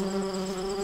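Bees buzz steadily and close in a bedtime story scene, a sustained even drone with no voices over it.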